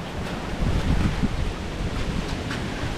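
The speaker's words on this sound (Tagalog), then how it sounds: "Palakas ang hangin dito." Strong wind roars steadily against the microphone, a continuous low rumbling gust with no voices.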